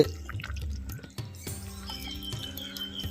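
A pot of sardine fish curry with fried sardines simmers at a full boil, giving close, irregular bubbling pops and soft liquid gurgles over a steady low hum.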